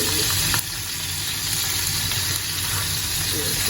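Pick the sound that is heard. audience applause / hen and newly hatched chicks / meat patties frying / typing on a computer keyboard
meat patties frying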